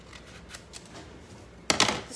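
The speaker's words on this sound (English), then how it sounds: "we'll just cut out the pine cone and let it kind of spill over the top" Scissors snip through a paper transfer printed with a pine cone design. A tight cluster of quick, crisp cuts comes near the end after a faint, quiet stretch.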